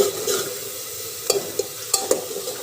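Onions frying in a pan for a soybean and pea curry, a steady close sizzle broken by several sharp scrapes and knocks of a spoon stirring.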